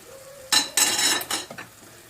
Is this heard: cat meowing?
no